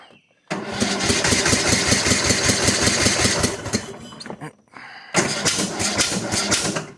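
A Cub Cadet LTX 1045 lawn tractor with a Kohler Courage engine, lacking power, runs loud and rough close by. It cuts out briefly partway through, then catches again with uneven, stumbling firing.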